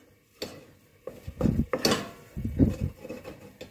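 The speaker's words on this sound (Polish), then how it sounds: "Cały czas gotujemy ciasto." Choux pastry dough is cooked and stirred in a pot, giving a few irregular scraping and knocking sounds of a utensil against the pot, close and moderately loud, with quiet gaps between strokes.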